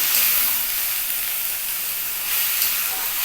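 Eggplant and fenugreek greens sizzle and hiss steadily in a hot pan on a gas stove as they are stirred, a loud continuous frying noise with no talk.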